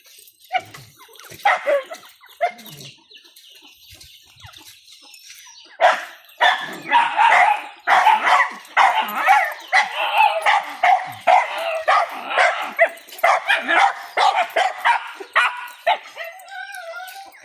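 Several dogs bark and yip rapidly and continuously at close range, with whimpers mixed in, the barking growing dense and loud after a quieter start.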